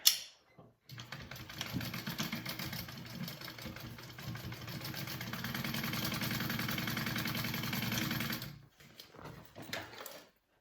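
A sewing machine stitching fabric for a circle bag, running as one continuous mechanical whir for several seconds after a brief pause, then stopping and giving a few short bursts near the end.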